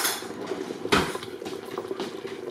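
A spoon stirs beef short rib sauce in a pot, making close scraping clinks and knocks against metal over a soft bubbling simmer, with one louder clank.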